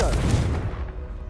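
The Confringo fire-blast spell cast in Hogwarts Legacy, a single loud close boom with a fiery burst that decays quickly over about a second.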